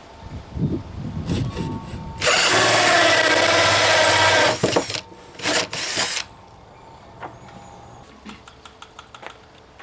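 A power drill bores a 2.5-inch hole through a wooden platform for a model train layout, whirring loudly and close in one long run followed by a shorter burst, with some faint handling knocks around it.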